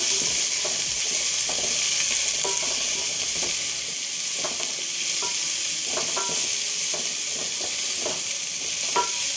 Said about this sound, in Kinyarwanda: tugiye gushyiramo ibitunguru byacu. Nitumara kubishyiramo turavanga.